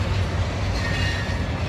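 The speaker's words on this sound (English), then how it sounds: "There's our morning train." A freight train passes a port in a continuous, fairly loud rumble with faint rail clatter and no pauses.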